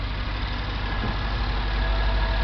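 A Lexus IS500 V8 idles with its stock exhaust, a steady, quiet low rumble heard up close with no talk.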